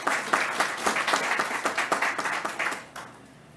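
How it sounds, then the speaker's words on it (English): A crowd applauds warmly at a governor's news conference after the news that Major League Baseball is returning to Buffalo. Steady clapping continues for about three seconds, then thins and fades. "Let's give them a round of applause."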